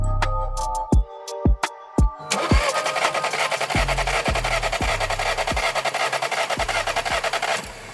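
A VW Passat B7 1.8 TSI engine cranks with a spark plug removed for a compression test, several short starter bursts followed by a longer run of rhythmic chugging turns, close and loud.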